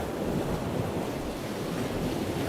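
Stormy ocean surf and strong wind at Cape Horn, a steady, dense roar of crashing waves and gusting air with wind buffeting the microphone, continuous and loud throughout with no voices.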